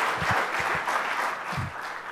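A room of people gives a round of applause for an on-stage anchor, a short broadband wash of clapping heard near and steady throughout, with low voice-like bumps scattered underneath.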